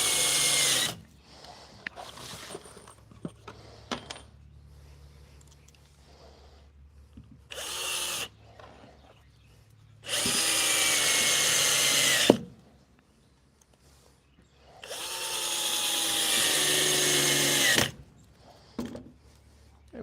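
Power drill driving screws into wood, two loud sustained bursts of whirring motor with a brief gap between, separated by quieter handling and clatter, close to the listener.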